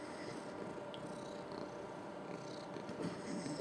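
A cat purrs steadily and close at hand, a continuous low rumbling with no speech, outdoors near a workshop and garden.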